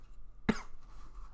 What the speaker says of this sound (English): Don't you dare cough.